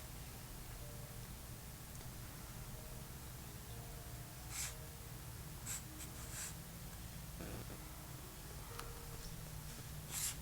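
Pencil strokes of three or four short lines drawn by hand on paper while sketching a hand holding an object, soft scratchy marks at a quiet close range, spaced out over a faint steady background hiss.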